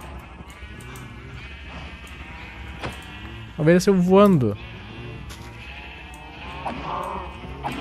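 A sheep bleats in Minecraft, one loud wavering call in the middle over quiet game sounds, with someone talking before and after it.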